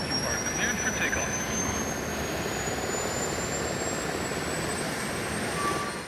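An F-4 Phantom jet roars during takeoff in the flight game Ace Combat 4, a steady, loud engine rush with a rising whine running throughout.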